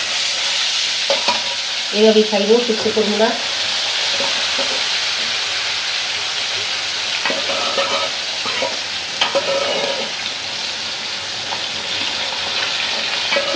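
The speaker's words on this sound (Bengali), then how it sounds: "একবারে সুন্দর করে ধীরে ধীরে মশমশা করে ভাজা হোক" Spiced koi fish frying in hot oil in a wok, a steady close sizzle with occasional stirring scrapes, while a voice speaks briefly near the start.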